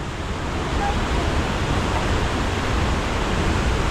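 Kok Kradan waterfall near Pilok and E-Tong gives a close, loud, unbroken roar of falling water, a dense steady rush with no pauses.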